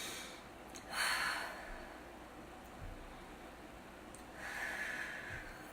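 Two slow, deep breaths during a seated breathing exercise, each a soft airy rush through the nose or mouth, close and quiet, separated by a few seconds of near silence.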